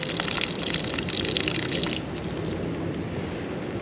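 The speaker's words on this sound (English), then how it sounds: "we've got a thin stream coming out" A thin stream of water runs steadily from a tap in an RV, a close, continuous splashing hiss with no talking.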